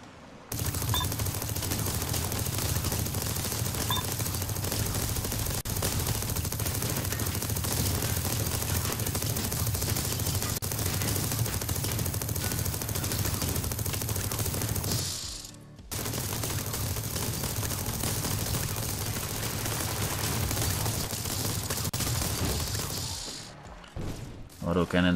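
Auto cannons fire nonstop during a TerraTech multiplayer battle, a dense, rapid clatter of in-game gunfire that breaks off briefly midway, then resumes and fades near the end.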